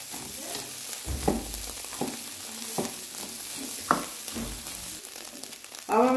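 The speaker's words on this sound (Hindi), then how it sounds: "अब हम इसे अच्छी तरह भून लेंगे।" White onion sautés in a pan, a soft continuous sizzle with several sharp spatula scrapes and knocks at uneven intervals, close and unaccompanied by speech.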